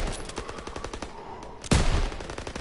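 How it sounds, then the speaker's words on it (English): Rapid machine gun fire from the World War II shooter Call of Duty WW2, a dense stream of repeated shots with a louder, closer burst erupting near the end. "MGs, open fire!"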